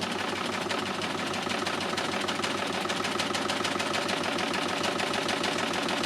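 A Lucie overlocker from Success runs steadily while stitching fabric, giving a close, continuous mechanical whir with a fast rhythmic clatter that holds at an even level throughout.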